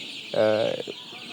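A single loud, close chicken cluck rises sharply and fades, with quiet background noise before and after.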